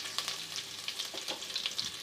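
Chicken fries in a pot for a chicken salan, partly sticking to the sides, giving a close, crackling sizzle with scattered pops and stirring scrapes and no voices.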